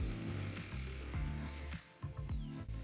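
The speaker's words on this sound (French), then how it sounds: "on perce un trou avec un foret fin," A power drill with a thin bit bores into a metal antenna reflector, its motor whining in short bursts with rising and falling pitch, close and steady, no voices.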